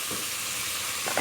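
Meat frying for an onion meat tagine hisses steadily in a pot, a brief close sizzle that swells slightly at the end as it is stirred.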